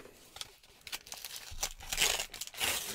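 A Pokemon card booster pack wrapper being torn open, close and fairly loud, with bursts of crinkling foil and ripping that grow busier and denser toward the end, no voices.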